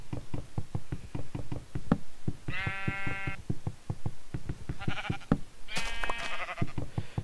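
Sheep in the Minecraft video game bleat several times over a steady rhythm of knocking footsteps, with no talking.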